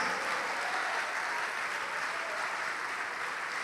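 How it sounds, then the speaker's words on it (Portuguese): Sustained applause from a church congregation during a Portuguese-language worship ministry, a steady, dense wash of many hands clapping close and loud throughout, with no pauses. "vamos aplaudir mais"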